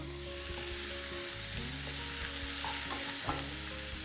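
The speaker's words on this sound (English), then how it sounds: "And I'll stir to make sure the onions don't burn." Onions frying in a pan, a constant close sizzle with regular scraping and stirring knocks from a spoon moving them around, no voices.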